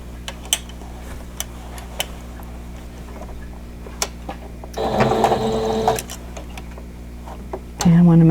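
A sewing machine stitches a seam while repairing a tessellating star quilt. Quiet ticking comes first, then a short burst of close, whirring stitching, and finally a louder run starting at the very end.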